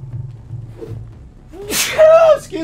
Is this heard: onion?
no